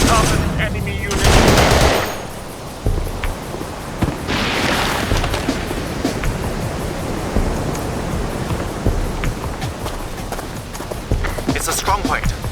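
Automatic gunfire and bursts in the Xbox 360 shooter Battlefield 2: Modern Combat, with loud shots early and around four seconds, then sustained rattling combat noise throughout, mixed with shouted voices.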